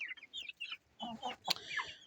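Several hens cluck and squawk close by in a backyard coop of old laying chickens, bursts coming in irregular runs with a sharper squawk near the middle and fainter fowl calls in between.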